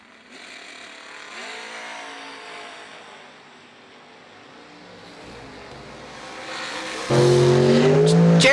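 A Camaro and a pickup truck idle and rumble at a drag strip starting line, fairly quiet at first, then launch with a sudden loud roar of engines and tires near the end.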